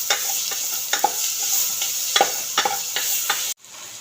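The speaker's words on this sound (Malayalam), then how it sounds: "മസാല പിടിക്കുന്ന വരെ ഒന്ന് ഇളക്കുക." Masala for chicken biryani is stirred in a pan, with repeated close spoon scrapes over a constant bright sizzle, and a brief cut near the end.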